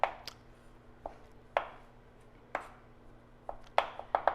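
A knife chops Little Smokies sausages on a board for stuffed bell peppers, about a dozen sharp, close cuts in an irregular rhythm, some spaced out and others in quick bursts toward the end.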